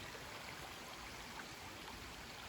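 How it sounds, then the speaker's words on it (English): A creek flows along a forest trail among hemlocks, pines and mountain laurel in Linn Run State Park, Pennsylvania, a faint, steady broadband rush of water with no breaks or voices. "of course this beautiful creek"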